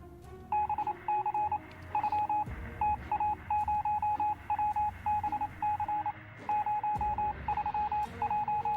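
Beeping radio transmission signal from the video game RimWorld, a steady repeating series of short electronic tones in rhythmic bursts, clear and alone with no talking.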